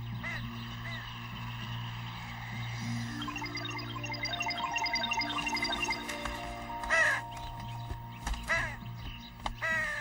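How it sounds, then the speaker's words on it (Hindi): A black crow gives a few harsh, loud caws over a steady musical background, the calls clustered near the end. "मेरे पीछे क्यों खड़ा है काले कौवे?"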